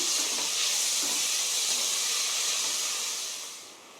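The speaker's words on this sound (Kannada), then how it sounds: "ಅದನ್ನು ಹಾಕೋತಾ ಇದ್ದೀನಿ ಇವಾಗ ಇದನ್ನು ಫ್ರೈ ಮಾಡ್ಕೊತೀನಿ" Two small chopped tomatoes hit a hot pan and fry with a steady, close hissing sizzle that holds evenly for a few seconds before easing off at the end.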